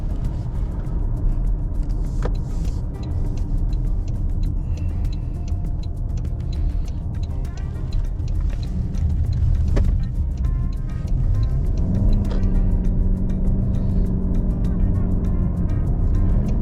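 A 2025 Toyota Camry LE Hybrid on a test drive gives a steady low road rumble and tire noise from inside the cabin, with a brief tone shift near the end.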